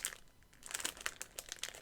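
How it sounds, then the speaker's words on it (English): A sticker collection kept in crinkly plastic sleeves being handled, giving a run of close, quiet crackles and crinkles with no talking. "this is my sticker collection. This is everything. And it's loud and it's crinkly"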